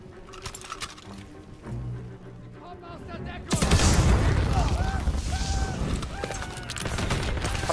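A grenade blast in the Call of Duty WWII video game erupts as a loud, broad burst midway through, followed by sustained battle noise and gunfire, after quieter game sounds at the start.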